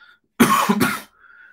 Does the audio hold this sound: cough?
yes